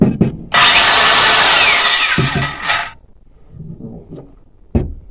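A DeWALT DCG440 cordless angle grinder whines loudly at full speed for a few seconds, then spins down, followed by quieter handling clicks and a short final bump.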